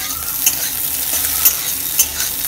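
Egg bhujia frying in oil in a pan, a loud continuous sizzle with three brief scraping clicks from the spatula as it is stirred, no voices.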